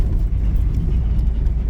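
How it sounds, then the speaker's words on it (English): A car drives off with a low, steady engine rumble and road noise heard from close by. Nobody talks over it. "So now I'm driving out because I'm late"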